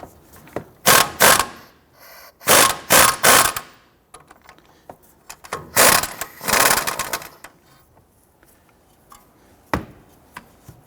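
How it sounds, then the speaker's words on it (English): A ratchet and 21mm socket work loose a steering knuckle nut on a 2005-2021 Nissan Frontier, sharp clicking bursts in several separate clusters with quiet gaps between, close and loud. "I'm going to use a 21mm socket to go ahead and loosen this nut."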